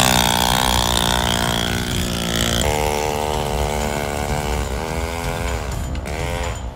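A cheap Chinese motocross bike bought online runs close by, its small engine giving a buzzy, raspy drone like a chainsaw that shifts pitch and revs up and down over several seconds.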